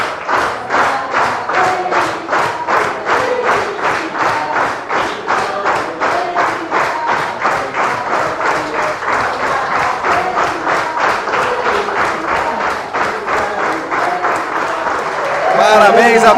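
A church congregation at a Sunday service claps in steady, even rhythm while singing happy birthday a cappella, loud, regular beats running the whole way under the voices.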